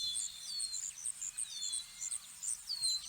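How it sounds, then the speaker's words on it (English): Bird calls in the video game The Unwanted: repeated quick high chirps and tweets in short bursts, fairly faint and steady over a quiet background, with no talking. "the bird sounds are slightly loud"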